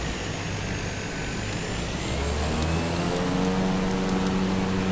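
A Cessna 208 Caravan turboprop in a flight simulator taxis with a steady, loud engine drone, low rumble and constant high whine, its pitch rising slightly partway through, with no talk.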